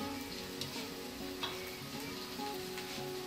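Ginger-garlic paste with carrots, cabbage and capsicum sautéing in a pan, a steady close sizzle with faint stirring ticks and no talk.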